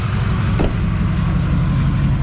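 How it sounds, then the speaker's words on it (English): An old Duramax diesel pickup truck idles just after starting, making a steady, close, low rumble with a single brief click partway through. "There she is. Fired right up."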